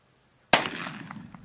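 A single loud, close gunshot from a .44 Magnum revolver fired outdoors cracks sharply after silence, followed by a long decaying echo rolling across the surroundings.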